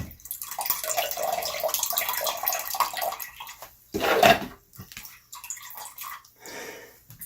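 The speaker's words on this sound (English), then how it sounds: "We're going to go ahead and transfer our mango juice mixture into our primary fermenter" Mango juice mixture being poured from a container into a primary fermenter for mango wine, a steady splashing stream for several seconds, then a short louder gush followed by scattered drips and trickles.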